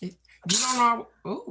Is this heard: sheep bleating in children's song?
no